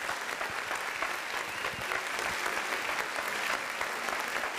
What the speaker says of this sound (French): Applaudissez pour mes fleurs de Kingston s'il vous plaît.